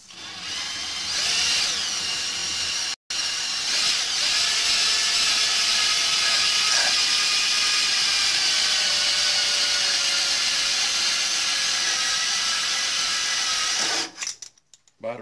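Cordless drill spinning a hone to deglaze the cylinder of a Briggs & Stratton Quantum 6hp engine: a steady, loud whining drone with a brief dropout near the start, running continuously before cutting off and sputtering at the end.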